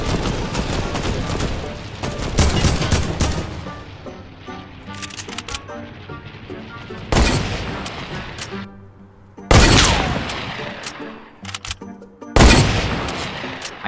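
Gunfire bursts in the Fortnite battle royale video game, loud repeated volleys with sharp cracks at intervals, some sustained exchanges, with a voice speaking in between.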